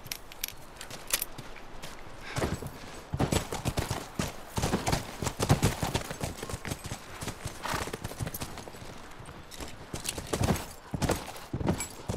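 Horse hooves clip-clopping in The Last of Us video game, an irregular series of crisp hoof strikes on hard ground at close range, with occasional jangling tack and a brief whinny.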